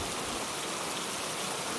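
Heavy rain falls across a lonely countryside, a steady, even hiss of downpour with no voices.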